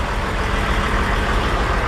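A truck engine idling in freezing weather, a steady loud low rumble that holds unchanged throughout, close by and with no talk.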